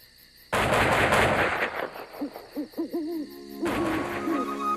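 A rapid burst of gunfire, several rounds fired in quick succession, followed by soft owl-like hooting in a quiet outdoor setting.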